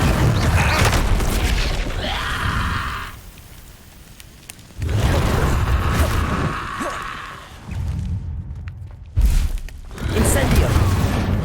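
Fire spells cast in Hogwarts Legacy come as repeated bursts, loud booming whooshes and crackles separated by short quieter gaps. Several casts follow one another with no talk over them.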